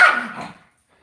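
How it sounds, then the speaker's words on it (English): A single loud dog bark, close and sharp, that quickly fades into silence. "It doesn't matter how loud you bark."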